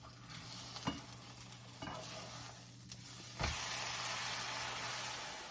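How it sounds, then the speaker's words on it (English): An omelet fries in a pan during a 4-H junior cooking challenge. A faint, steady sizzle is broken by several sharp knocks and a louder thump as it is flipped, after which the frying continues more fully. "now going to attempt to flip the omelet."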